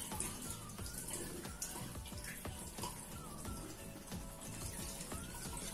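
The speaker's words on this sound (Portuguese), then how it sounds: "Agora já lavei, né, meu rosto." Tap water runs steadily into a sink or basin while a face is rinsed after a honey and sugar scrub, a continuous close splashing wash with no speech.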